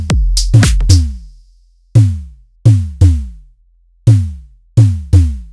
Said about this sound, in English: So the tom drum I want to make sounds something like this.